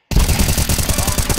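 Rapid automatic gunfire from the video game Counter-Strike 2, a loud, close burst of evenly spaced shots lasting just over a second, with no voices.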